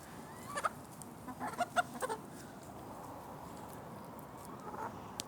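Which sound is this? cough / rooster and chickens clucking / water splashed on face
rooster and chickens clucking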